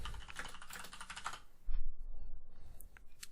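Typing on a computer keyboard to enter a WordPress plugin search: a quick run of close, crisp key clicks, then a pause and a few scattered taps over low room noise.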